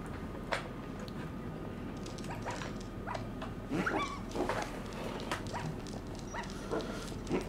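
A dog in the video game Hello Neighbor 2 whimpers and gives a few soft, scattered barks, faint and intermittent over a quiet background hum.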